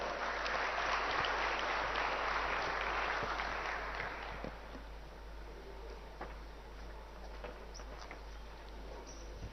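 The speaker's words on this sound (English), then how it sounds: "Can we please welcome him with a warm round of applause?" Warm applause welcoming a speaker to the podium at the BioAsia convention inauguration, a fairly faint crowd clapping that is strongest at first and thins to scattered claps over the second half, over a low hum.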